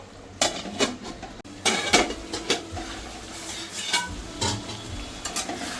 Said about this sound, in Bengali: এবার আমি আরেকটু কষিয়ে নেবো মশলাটাকে।